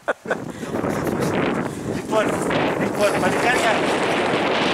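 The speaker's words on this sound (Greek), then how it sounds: "Φυσάει και όλα σε αυτό είναι σκηνικό" Strong wind buffets the microphone outdoors at a villa, a steady rough rushing roar that runs the whole time, with someone speaking briefly under it.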